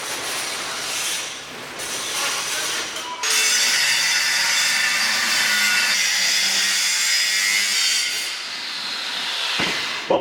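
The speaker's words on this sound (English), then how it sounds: "we're gonna go ahead and trim around the whole thing so it's cut in half" A metal pipe section is cut in half to make a muffler, giving a loud, continuous high-pitched grinding hiss that holds for several seconds and then tails off at the end.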